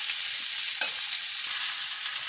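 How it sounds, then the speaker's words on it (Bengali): Drumstick (moringa) and potato pieces fry in a pan with a steady, bright sizzle, close and continuous, with one brief stir partway through and no talking. "সজনের ডাঁটা আলুটাকে রান্নার আগে এরকম ভেজে নিলে"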